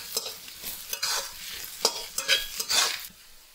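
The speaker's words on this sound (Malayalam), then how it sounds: "ഉള്ളി നല്ല പോലെ വഴന്നിട്ടുണ്ട്" Onions, ginger and slit green chillies sautéing in a pan for beef peralan, crackling sizzle broken by repeated bursts of spatula scraping and stirring, close and clear with no talk.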